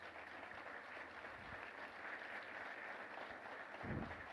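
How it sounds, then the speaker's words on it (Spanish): Church congregation applauding in praise, a soft, sustained patter of many hands heard from a distance, rising slightly toward the end. "¿Qué tal si le damos a aquel un aplauso que es digno de nuestra adoración?"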